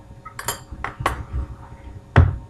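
Someone rummages through kitchen utensils for a spoon, with a handful of sharp metal clinks and clatters at irregular moments. A heavier clank near the end stands out, close and clear, with no talking.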